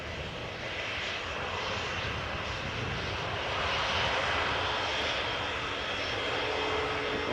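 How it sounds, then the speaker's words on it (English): EasyJet Airbus A320 jet rolling out after landing on the Polderbaan runway at Amsterdam Schiphol, its engines giving a steady, broad roar at moderate distance that swells slightly midway, with no voices. "we have an EasyJet A320 that has landed on Polderbaan earlier from Basel"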